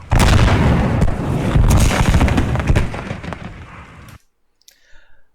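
A destroyed tank wreck explodes in an Armor Overhaul game mod, a loud, dense roar of blasts rumbling for about four seconds before cutting off abruptly into near silence.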